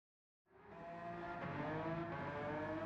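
A Ferrari F12berlinetta, front-engined and rear-wheel drive, drifts at Suzuka in Gran Turismo 7; after a short silence the engine roars in with a sustained high, harmonic-rich tone mixed with tire squeal, steady and loud to the end.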